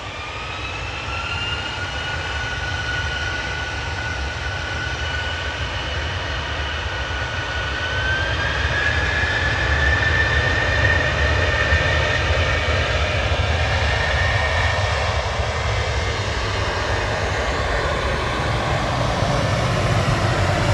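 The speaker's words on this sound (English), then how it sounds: "TUI 2660 to Innsbruck" A TUI Boeing 737-800 jet departing Manchester Airport for Innsbruck, a loud, sustained engine roar with a rising whine that swells midway and holds steady, heard alone without voices.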